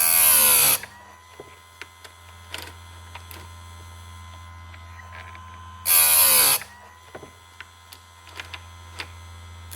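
A small bench grinding machine sharpens an old Stihl chainsaw chain, giving two short loud whining grinds separated by quieter clicks and a low motor hum.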